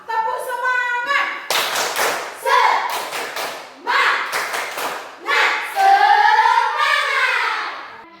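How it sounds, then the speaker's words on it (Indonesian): Elementary class in a fifth-grade math lesson performing a rhythmic 'tepuk semangat' spirit clap, bursts of patterned hand claps and thumps mixed with children's chanting voices, loud and close. "Ayo kita semua, tepuk semangat."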